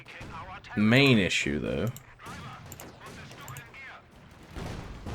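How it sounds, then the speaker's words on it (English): Repeated mortar fire in Company of Heroes 2 on the Operation Barbarossa Crimea mission, sharp battlefield reports popping amid other gunfire, with a loud voice talking over the first part. "The good thing is the mortar is firing, though."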